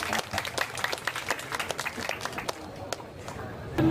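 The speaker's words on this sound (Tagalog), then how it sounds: "Very good. Palakpak po natin." Audience applause at a gathering, a burst of dense, crackling hand-clapping that runs steadily for a few seconds close by, with crowd noise mixed in.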